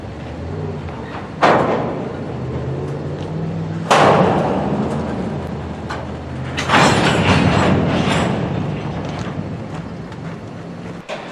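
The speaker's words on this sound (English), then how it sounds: "Just after the front of this train passed underneath the signals, it came to a halt." A long Norfolk Southern freight train slows to a halt, its wagons rumbling and rolling steadily with three heavy thumps as the cars bunch up, plus wind noise buffeting the microphone throughout.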